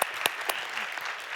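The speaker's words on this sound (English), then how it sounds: "Give them a big applause" Conference audience applauding a panel at a 30-year celebration event, a brief, fairly faint wash of clapping with a few sharper claps standing out.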